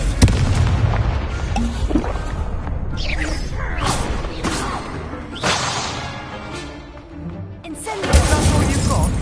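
Confringo blast spells exploding in Hogwarts Legacy on PS5, several loud booms and crashing bursts with whooshes, mixed with battle taunts and voices talking.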